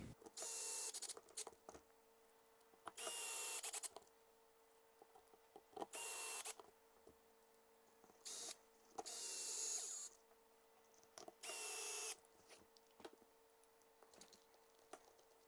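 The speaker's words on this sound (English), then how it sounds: "So I'm going to get this all screwed in and see how it goes." A power drill drives 12 mm screws into a radio-controlled car's twin transmission, the VS4-10 Phoenix build, in about five bursts of whirring of a second or so each, close and loud, separated by quiet handling noises.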